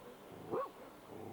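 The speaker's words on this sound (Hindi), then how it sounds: "कुत्ता किसी और पे भौंका है।" A single short dog bark, fairly faint and distant, over a quiet indoor background with no speech.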